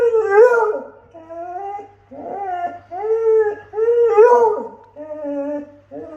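A dog howls and whimpers nearby in a series of long, wavering, rising and falling calls with short pauses between them, during an indoor recording session.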